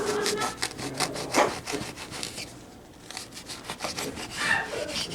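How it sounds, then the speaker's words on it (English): Loaf being sliced with a serrated knife in a kitchen, producing close, rhythmic back-and-forth sawing strokes with a rough, scraping texture, steady and fairly loud, without any talking. "So you want to use a serrated edge to cut it."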